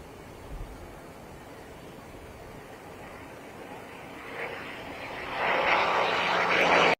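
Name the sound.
P-51C Mustang propeller aircraft flying by at air show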